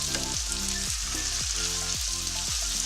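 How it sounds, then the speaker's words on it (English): Thai drunken noodles (pad kee mao) with fresh pepper, fingerroot and long chilies being tossed and mixed in a hot pan off the heat, giving a steady sizzle with a rhythmic scraping stir roughly every half second. "Turn off the heat and mix everything well."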